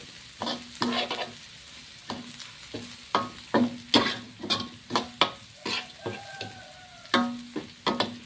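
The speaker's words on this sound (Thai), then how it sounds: "เราก็ต้องผัด ผัดกระเพราก่อน ไอพริกให้มันหอมก่อน" Holy basil, chili and chicken giblets being stir-fried in a pan, with a rhythmic series of sharp spatula scrapes and clanks over a low sizzle, close and distinct with no talking.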